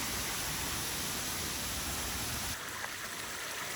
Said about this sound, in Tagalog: Yung waterfalls